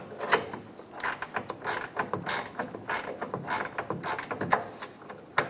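A ratchet snugs down the rear leaf spring shackle bolt on a 2014-2018 Chevrolet Silverado 1500, giving a run of quick, close mechanical clicks in uneven bursts with a few sharper knocks.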